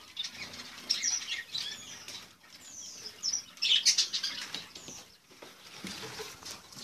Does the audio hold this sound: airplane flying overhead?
no